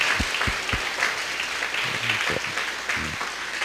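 A church audience at a Christmas festival applauds as an offering of praise, a continuous wash of many hands clapping with some sharper claps standing out early on.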